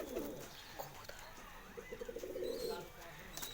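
Pigeons give soft rhythmic cooing, a short run of low pulsed coos in the middle, fairly quiet and close against a faint background.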